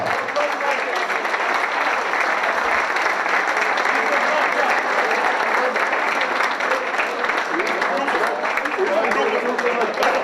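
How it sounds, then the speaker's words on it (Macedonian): An audience at a volleyball club's anniversary ceremony applauds for Stevan Veta, dense sustained clapping from a large crowd filling the whole stretch at a steady, loud level. "Јас ќе ве замолам за еден аплауз за господинот Стеван Вета"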